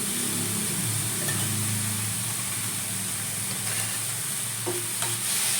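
Chinese bites with red chili and soy sauce are stirred in a hot frying pan, giving a continuous loud sizzle with repeated scraping stirs throughout.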